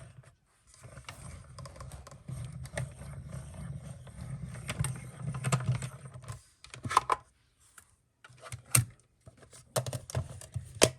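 A paper sandwich stacked between two number 2 plates is cranked through a die-cutting machine, giving a run of clicking, rattling mechanical noise in several bursts with short pauses between them.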